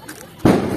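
A small snake firecracker at a Diwali celebration suddenly ignites partway through, bursting into a close, loud fizzing hiss that continues to the end.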